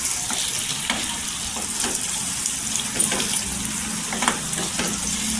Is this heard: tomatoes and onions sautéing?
yes